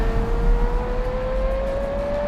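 A Porsche performance car accelerating, its engine tone climbing steadily as a loud, close roar with road noise underneath and nobody speaking.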